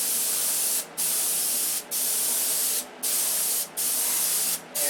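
A spray gun laying a first coat of red paint on the top of a light airplane's wing and cowl, a loud, steady close hiss in five long bursts separated by short pauses.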